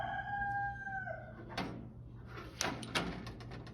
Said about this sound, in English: Also, again, the rooster.